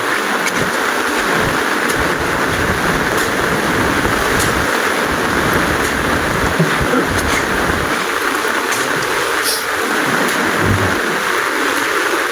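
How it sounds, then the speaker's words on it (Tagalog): Steady heavy rain pours in a constant wash of noise over a house under construction, with low thunder rumbles rolling underneath at intervals. "Kahit nag-uulan po."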